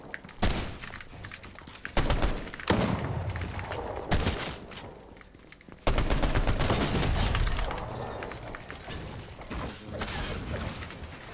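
Gunfire in a video game: a series of loud sharp shots and heavy bursts, some clustered in rapid volleys with quieter gaps between.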